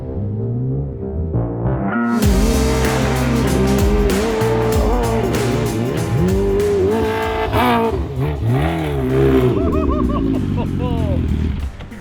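Kawasaki H2R motorcycle engine revving hard on a motocross track, loud and close, with rising and falling pitch sweeps through repeated throttle bursts and gear changes.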